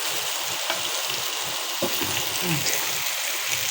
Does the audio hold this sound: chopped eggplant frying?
yes